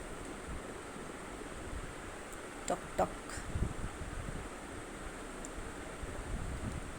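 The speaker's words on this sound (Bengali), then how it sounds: "ঢেউগুলো কি বড় বড় ঢেউ যেন আছাড় খেয়ে খেয়ে পড়ছে" Big sea waves crash on a beach in a continuous low roar mixed with wind noise, and a voice briefly speaks over it.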